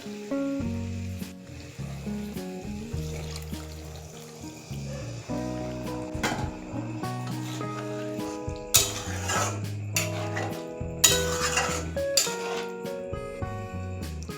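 Half a cup of water goes into spiced chickpeas in a cooking pot, followed by sizzling and a spoon clinking and scraping against the pot, nearby, with the scraping growing busier toward the end.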